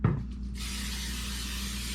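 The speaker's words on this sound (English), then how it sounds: "I'm gonna spray my non-stick cooking spray." Non-stick cooking spray hissing onto a pan, a steady, fairly loud spray that starts just after a short click from the can and keeps going without a break.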